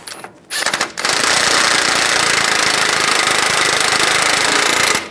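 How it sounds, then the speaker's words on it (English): Tightening the axle nut on a front wheel hub of a 1998-2010 Volkswagen Beetle: a brief tap, then a loud, sustained rapid hammering rattle of a power tool that runs for about four seconds before stopping. "Now we're going to tighten the axle nut."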